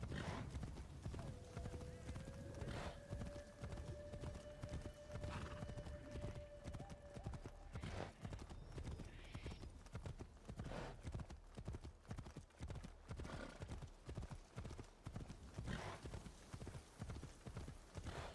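Horse hooves clip-clopping steadily on a road in the video game Assassin's Creed Shadows, a continuous trotting rhythm with a brief whinny early on, heard under game ambience.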